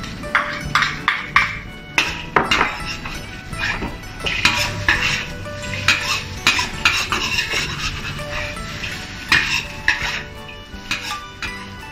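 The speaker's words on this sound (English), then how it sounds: "Coat the rice with the egg liquid and fry over low heat until the egg is cooked." Rice and egg stir-fried over low heat with Chinese sausage in a pan, a steady run of close metal spatula scrapes and clanks against the pan over a soft sizzle, with no talking.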